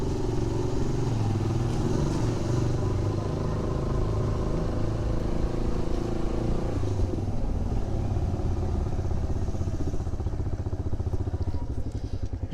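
A motorcycle rides in on a road near a fort in Sindh, its engine loud and close with a steady rumbling putter and some rattling clatter, then idles as it is parked, with no talking.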